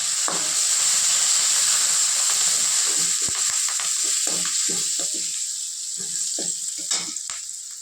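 Brinjal pieces fry in hot oil as coriander and curry leaves are added, giving a steady bright sizzle with stirring clatter and scraping underneath.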